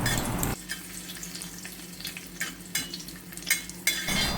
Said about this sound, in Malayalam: നമുക്കിതിലേക്ക് കുറച്ച് മുന്തിരി ഇട്ട് കൊടുത്ത് ഒന്ന് വറുത്തെടുക്കാം